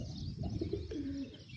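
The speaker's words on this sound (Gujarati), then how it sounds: "આ કબૂતરા માટે અહીંયા દારિયા નાખ્યા છે" Pigeons coo at close range while being fed grain: a short, soft burst of low, throaty rolling calls over a quiet background.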